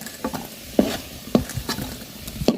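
New potatoes frying until reddish-brown, a soft sizzle broken by a few sharp spatula scrapes and knocks against the pan at uneven intervals.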